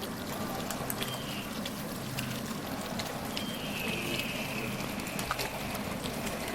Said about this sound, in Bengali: এখন আমি ঘি দিয়ে দিব।